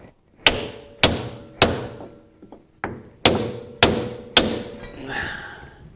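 Steady hammer blows drive a pinion seal into the axle casing of a 1963 Ford Econoline, seven or eight sharp metallic strikes about half a second apart, close and loud, each ringing briefly.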